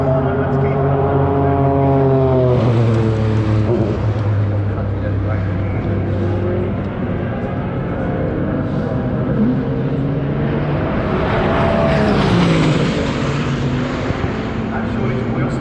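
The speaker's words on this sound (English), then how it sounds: "You can hear him really having to lift the throttle there" A race car at a Sydney Motorsport Park time attack event is heard under continuous commentary, its engine rising and falling in pitch as the driver lifts off and gets back on the throttle.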